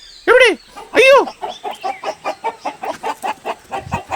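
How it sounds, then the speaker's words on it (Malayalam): Hens cluck loudly in an animated kids' story, two big squawks opening a run of rapid, steady clucks close up, with no other voices. "എന്താണാവോ കോഴികളൊക്കെ എന്താ ഇങ്ങനെ ഒച്ച വെക്കുന്നത്?"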